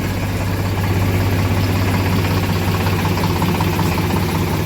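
A tractor engine chugs steadily, loud and close, with a constant low throbbing rumble and no voices, during demolition of a cattle shed.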